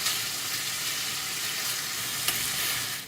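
Beef steaks searing in a hot pan, a steady close sizzle and crackle of frying that runs without pause, alone with no talk.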